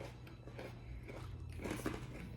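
A crunchy Japanese snack from a Bokksu box is bitten and chewed close to the mic, giving faint repeated crunches and grinding over a low steady background hum.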